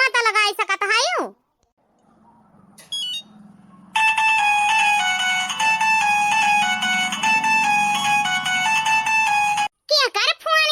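A phone ringtone plays a repeating electronic melody for several seconds, loud and close, with a voice speaking before and after it.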